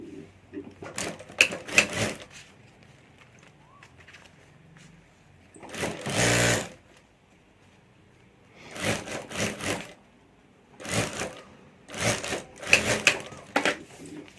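A sewing machine stitches the lining of a handbag in several short bursts of rapid mechanical chattering, separated by quiet pauses, close and fairly loud.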